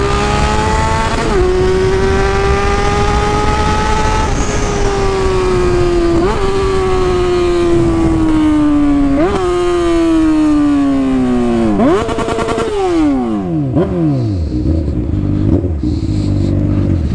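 Motorcycle accelerating hard from a traffic light, the engine climbing through several gears with rising whine and clear upshifts, then dropping away as it pulls into the distance, loud and close at first.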